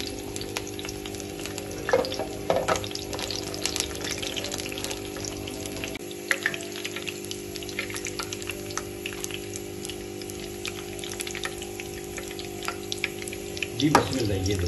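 Garlic cloves fry in oil for a dal tadka, a faint steady sizzle running throughout with a few soft clinks and bumps, a voice speaking over it at times.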